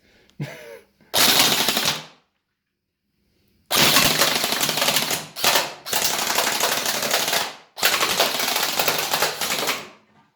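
A Well M401 gel blaster fed from a drum magazine fires rapid full-auto bursts: one short burst, a pause, then several long, loud rattling volleys close by, with no talking.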